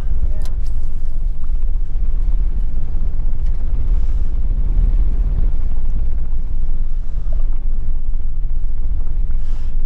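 Strong wind blasts over a fishing boat off Corpus Christi, Texas, a loud, continuous low rumble of gusts against the microphone with no talking.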